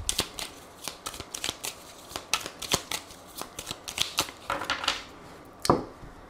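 A tarot deck being shuffled and then cut, with quick papery riffles and crisp card snaps in an irregular run, close and fairly quiet, with no voices.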